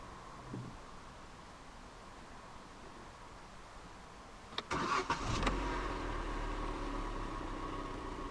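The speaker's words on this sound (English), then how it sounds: "to start, put your foot on the clutch, insert the key into the slot right here, and twist the key" A 2015 Vauxhall Meriva 1.4i Turbo 120 starts with a key after a quiet pause: a brief starter crank catches, then the engine settles into a steady, low idle close by.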